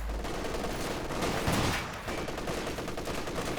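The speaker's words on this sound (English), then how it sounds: "Sniper opening up on the machine gun." Rapid gunfire from a sniper and machine gun in the WWII strategy game Company of Heroes 2, a dense crackling burst with a brief louder swell midway, continuous throughout.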